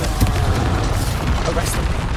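Explosive Bombarda and Confringo spell blasts in the video game Hogwarts Legacy, a dense run of booming impacts layered over constant low rumble and battle noise, with a voice speaking throughout.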